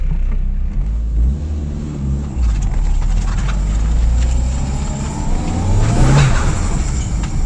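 Toyota Glanza car driving past outdoors after a gearbox replacement, a steady engine drone with rising tire and engine noise that swells near the end as it goes by.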